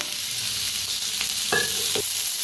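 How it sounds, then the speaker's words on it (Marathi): Chopped onion sizzling and frying in mustard oil in a pan, a steady close hiss broken by brief scraping stirs of a utensil, with no talk. "आता कांदा थोडासा हलकासा भाजत आलाय, तेल ओतून भाजूया।"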